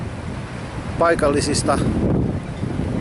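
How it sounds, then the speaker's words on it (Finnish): Strong wind buffets the microphone on a breezy seaside shore near Antibes with sailboards out, a steady loud rush throughout while someone speaks Finnish briefly in the middle. "tällä hetkellä on poltaista, mutta tuulee ihan järjettömästi"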